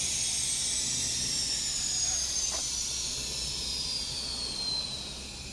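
Air bags on a GMC 2500HD AT4X AEV pickup dump their pressure in a steady, close hiss that lasts several seconds and tapers off slightly at the end.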